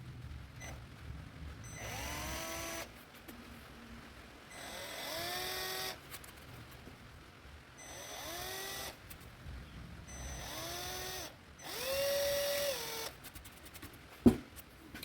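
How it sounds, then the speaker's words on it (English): A small drill bit bores holes at the ends of cracks in a Jeep XJ dashboard, five separate short whirring bursts with quiet gaps between, each winding up and down in pitch, close and fairly quiet, ending in a sharp click. "I'm going to drill a hole right with a very small drill bit right at the edge of these cracks."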